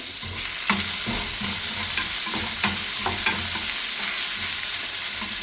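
Sliced onions frying in very hot oil in a pan for a fried sardine gravy, with a steady, close sizzle throughout and a few sharper stirring clacks and scrapes over about five seconds.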